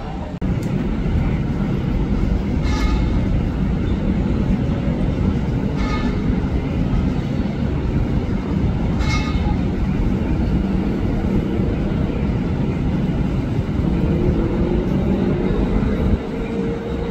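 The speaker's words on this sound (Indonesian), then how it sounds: "hati-hati kereta api melintas langsung" A commuter train passes straight through Manggarai Station, Indonesia, without stopping, rumbling steadily for the whole stretch, loud and sustained, with a few faint clanks and squeals over the roar.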